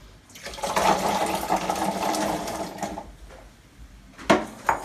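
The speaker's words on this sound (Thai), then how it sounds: "แล้วก็ล้างนะครับล้างมะม่วงหาวนาโหนะครับ" Water splashes and sloshes steadily as karanda fruit is washed in salted water, with a couple of louder sloshes near the end.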